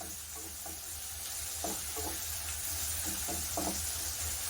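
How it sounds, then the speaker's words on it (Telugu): Chopped coriander and tomato fry lightly in a pan, giving a steady soft sizzle with a few gentle stirring knocks of a spoon, close and fairly quiet. "లైట్గా వేపేసుకుంటాను."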